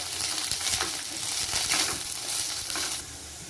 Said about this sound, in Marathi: कांदा लालसर होईपर्यंत भाजून घेऊया।